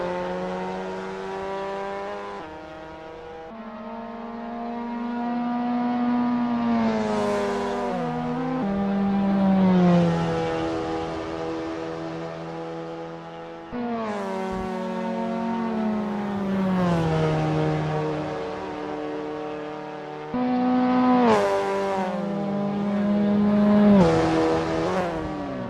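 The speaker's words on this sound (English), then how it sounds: "Sabo is getting to grips with the Mazda MX5 Cup in this practice session." A Mazda MX5 Cup race car engine in Assetto Corsa at Snetterton, revving up through the gears with repeated rising pitch sweeps and brief drops at each shift, steady and fairly loud, with no talk.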